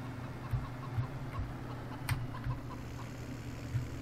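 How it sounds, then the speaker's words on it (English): Chickens in the Farming Simulator 17 farm game cluck in short, soft bursts at a steady loose rhythm over a low engine-like hum, with no talk. "Oh, chickens."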